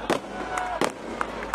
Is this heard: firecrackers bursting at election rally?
yes